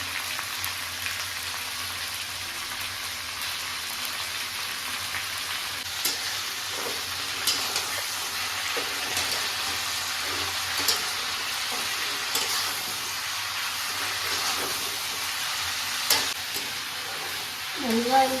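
Vegetables sauté in a pan with a steady, moderately loud sizzle, broken by repeated scraping and clinking from stirring; no one speaks.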